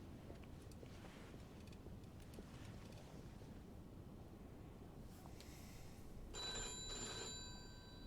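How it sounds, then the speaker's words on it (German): A telephone rings in the video game Mafia 2 with one bright electric bell burst near the end, over a steady, wind-like ambient hiss. "Telefon, Telefon."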